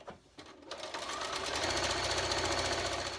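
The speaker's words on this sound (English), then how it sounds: "And we're going to sew it on." A sewing machine stitches a wonky log cabin quilt block on a muslin foundation, starting with a couple of quick stitches and then building into a steady, close, rapid mechanical whir.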